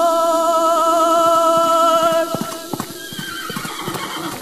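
A horse gives a loud, long whinny close by, then hooves thud and scuffle in a quick, irregular trampling as the call fades.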